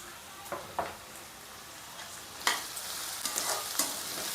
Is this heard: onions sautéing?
yes